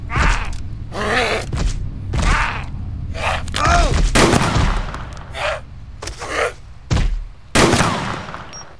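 Gunfire in DayZ as a zombie is shot: loud, close bursts of shots in uneven clusters with thuds between, some with a ringing tail.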